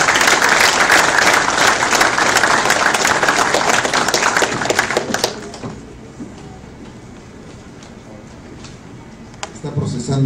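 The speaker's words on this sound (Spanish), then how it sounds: "recibamos con fuerte palmas, por favor, aplausos para Henry Lunja." Loud, dense applause from a conference lecture audience fills the first half, then cuts off to a quiet room with faint scattered sounds.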